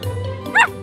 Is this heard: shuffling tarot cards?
no